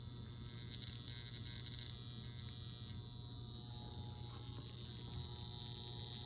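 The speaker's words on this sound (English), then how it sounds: "the sound and then that whole thing that it's electricity scares people" A steady electrical buzz with a high, hissing whine on top from a high frequency electrotherapy wand held to skin, humming continuously at close range and wavering slightly in intensity.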